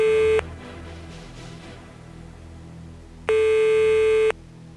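Electronic phone tones in a video game as the emergency number 112 is dialed: two long, loud, steady beeps separated by a gap of quieter background murmur.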